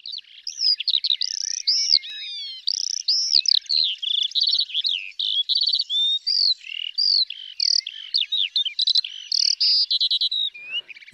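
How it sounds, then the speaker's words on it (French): A skylark sings a long, rapid, continuous stream of high chirps, trills and warbles, close and clear with no other sounds. "l'alouette est une des espèces qui ne rigole pas sur le sujet du chant"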